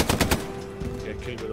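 Machine gun fire in Hell Let Loose: a quick, loud burst of three or four close shots, then fainter rattling and a steady hum fill the remaining moment.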